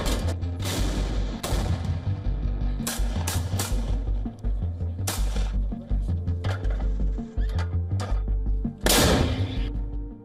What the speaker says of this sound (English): Buzz of drones and boom of explosions drown out midnight celebrations